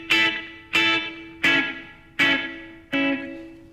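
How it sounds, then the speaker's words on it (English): An electric guitar runs through a compressor and room reverb, playing five sharp, evenly spaced strummed chords whose sustain decays into a short ambient tail, loud and without talk. "The other thing that we're using here is a room reverb."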